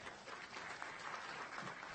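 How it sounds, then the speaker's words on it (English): An audience at an evening civic program on race and elections claps steadily for a county commissioner's introduction, a soft, even patter of many hands heard from a distance. "We can clap for that."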